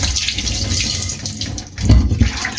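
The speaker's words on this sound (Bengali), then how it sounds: "তো মাছ ভিজিয়ে রেখে যাব, সন্ধ্যার পরে এসে রান্না টান্না করবো।" A kitchen tap runs steadily, filling a vessel to soak fish, with a continuous splashing rush of water that swells louder toward the end.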